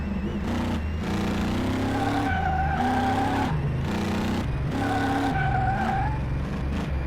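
Car driving in Car Mechanic Simulator, a steady engine drone with rising and falling revs and repeated tire-skid squeals, loud and continuous with no talk.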